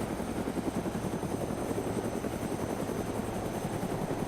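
A helicopter hovers in the survival game DayZ, its rotor chopping in a fast, even rhythm that stays steady and fairly quiet throughout.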